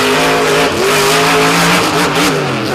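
A monster truck engine revving hard at a beach show, loud and close, with its pitch rising and falling across several revs and some tire noise mixed in, no talk over it.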